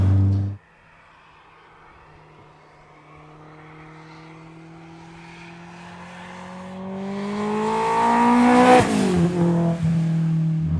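A supercharged Honda S2000 sleeper, tuned to 526 bhp and a 9,300 rpm redline, accelerates hard after a brief idle, its engine note climbing steadily in pitch and loudness through the revs, with a sharp gear-change blip near the end.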